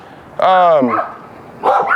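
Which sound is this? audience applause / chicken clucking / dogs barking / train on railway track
dogs barking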